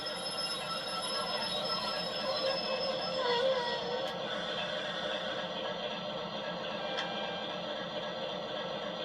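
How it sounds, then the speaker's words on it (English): Continuous rumbling cab ambience from an Accurascale GBRF Class 60 model locomotive's sound system, steady mechanical hum, faint whines and a couple of brief high clicks, no talking. "You change direction and you get all the noises from inside the cab."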